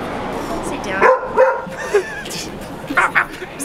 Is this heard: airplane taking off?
no